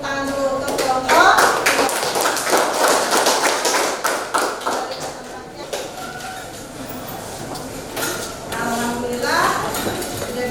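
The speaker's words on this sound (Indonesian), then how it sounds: "Beri tepuk tangan dulu untuk kelompok." Applause for a presenting group in a classroom Indonesian lesson: scattered, uneven handclaps with some louder bursts early on that thin out toward the end.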